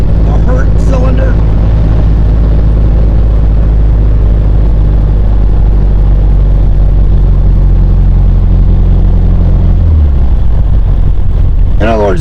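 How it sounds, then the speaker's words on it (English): A 1972 VW Super Beetle air-cooled engine idles with an uneven, galloping lope from a weak, low-compression cylinder, a steady loud rumble close by that drops in pitch near the end. "the engine's still low on the pressure. You can hear it. There's a gallop in the engine"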